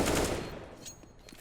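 Rapid gunfire from the video game CS:GO plays as a short, dense burst of shots up close, fading quickly after the first half second.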